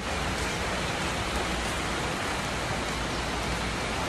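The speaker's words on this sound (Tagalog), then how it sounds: "Ang lakas-lakas na pala ng ulan dito sa labas." Dense, constant hiss of heavy rain pouring down, loud and unbroken throughout, with no voices or other sounds.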